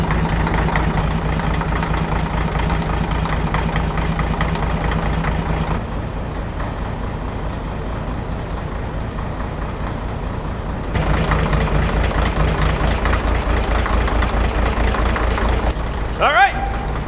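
Small pony engine on a 1950 cable shovel that sat unused for over twenty years, idling with a steady low throb, loud and close, shifting in intensity partway, with voices talking over it.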